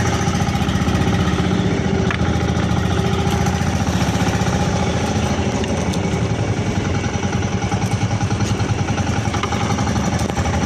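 A fishing boat's engine runs slowly at sea during net fishing for sea catfish, a steady low idling throb with rhythmic pulsing, continuous and fairly loud throughout, with wind and no talking.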